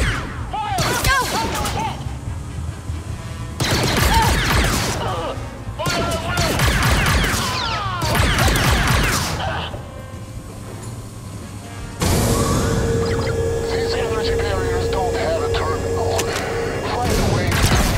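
Blaster gunfire erupts in the Star Wars Outlaws video game, dense volleys of loud, rapid shots in repeated bursts with brief lulls between, followed by a sustained stretch of continuous firing and clatter.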